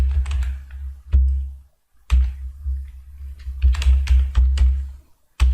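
Fingers type C code on a computer keyboard in quick bursts of clicky keystrokes separated by short pauses. The typing is close and clear, with no talking over it.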